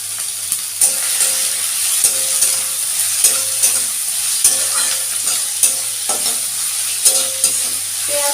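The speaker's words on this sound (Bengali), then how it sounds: "পেঁয়াজটা আমি প্রথমে একটু হালকা সোনালি করে ভেজে নেব" Finely chopped onions fry in hot mustard oil with a steady, close sizzle, broken every second or so by the scrape of a spoon stirring the pan. No one speaks.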